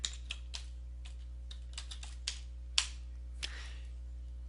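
A password is typed on a computer keyboard, about a dozen sharp, close key clicks in an uneven rhythm over a low steady hum, with no voices.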